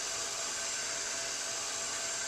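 A heat tool blows steadily to melt a coat of embossing powder smooth, a constant close airy whoosh like a hair dryer with no pauses or talk.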